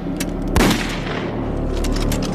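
Gunshots in a war drama, with one loud, booming shot standing out against a constant rumbling din of scattered distant fire.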